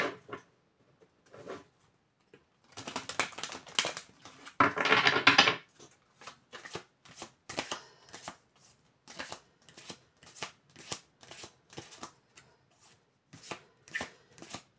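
Tarot cards shuffled by hand for a nine-card reading, crisp papery riffles and bursts in an irregular rhythm, close and alone, with longer shuffles in the first half followed by quick repeated taps.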